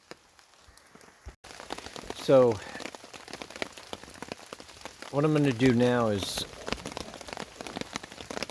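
Steady rain patters on the tarp and leaves over a solo hammock camp in the Catskills woods in fall, a continuous close hiss with scattered drops, while someone speaks briefly partway through.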